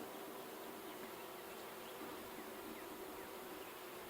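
Honey bees buzzing around hive frames during a colony split, a continuous soft droning hum of many insects at close range, with no voices.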